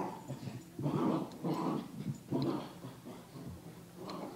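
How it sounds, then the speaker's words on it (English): An excited dog whimpers and whines nearby in a few repeated bursts, with snuffling breaths between them and no voices. "Dog's going crazy."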